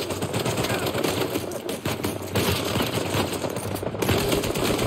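Gunfire in the PS5 remaster of Uncharted 4, a dense, continuous rattle of rapid shots filling the whole stretch at steady loudness, with no talking over it.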